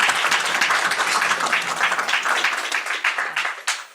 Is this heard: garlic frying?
no